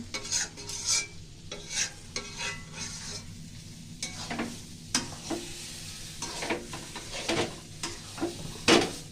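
Dal cooking in a pot in a home kitchen, stirred with a ladle in irregular scraping strokes over a soft simmering sizzle, close but fairly quiet, with occasional light clinks.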